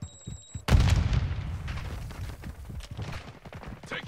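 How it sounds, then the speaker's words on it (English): A loud burst of video game gunfire aimed at the player opens after a quiet moment, then shots and booms crackle on steadily and densely with no talk. "Taking effective fire!"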